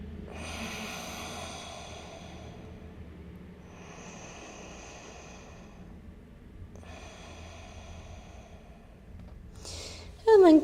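Slow, deep breaths during a yoga pose come close and clear: a long hissing exhale, then two more steady breath cycles, followed by a short voiced sound at the end.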